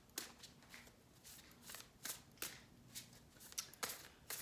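Tarot cards being shuffled by hand in repeated quick riffling bursts, soft and close, with brief pauses between strokes and no talking.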